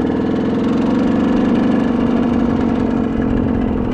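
A truck engine revs hard and continuously during a short burnout in the Colorado wilderness, a loud, close, rough drone with a slight rise and fall and no talk over it.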